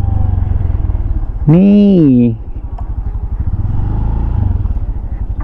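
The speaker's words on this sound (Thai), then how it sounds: "เดี๋ยวจะเอารถขับเข้าไป" A motorcycle rides into a field of leaning palms at Bang Pahan, Ayutthaya. Its engine keeps a steady low throbbing pulse throughout, close by, and a brief voice rises over it near the middle.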